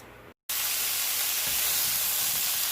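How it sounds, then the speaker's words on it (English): Frozen vegetable mix and fresh zucchini hit a hot wok, and after a brief gap a loud, steady hissing sizzle of frying fills the air without pause. "I'm going to throw some of this in my wok with some fresh zucchini"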